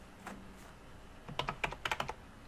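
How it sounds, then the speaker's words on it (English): Light, quick keystrokes on a computer keyboard: a few scattered taps, then a brief burst of rapid typing, close and fairly quiet with no talking. "As you start typing"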